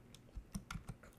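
Short burst of typing on a computer keyboard entering a Red Hat Linux command, with about five quick, close, quiet key clicks in an uneven rhythm and no speech.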